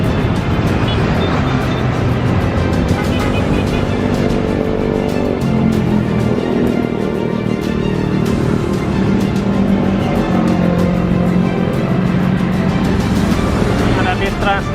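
Intercity night buses rumble past beneath a flyover in Jakarta, a steady dense roar of engines and road traffic with low droning tones rising and falling, heard from above and continuous throughout.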